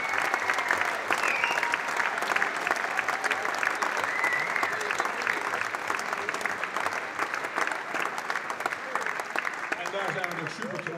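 Sustained audience applause fills a hall in a continuous, even wash of many hands clapping at constant loudness, with a voice briefly audible near the end.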